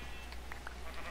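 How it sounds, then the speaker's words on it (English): White sheep in the Minecraft video game give a few short, faint bleats over a steady background hum, spaced out across about a second. "Figure, white sheep, they're here."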